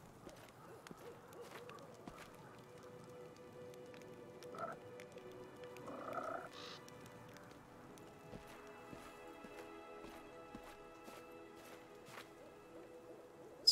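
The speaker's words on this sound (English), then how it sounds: "Some more frogs." Frogs croak in Pathfinder Kingmaker, faint and scattered, with a few brief croaks rising over a quiet low backdrop of ambient sound.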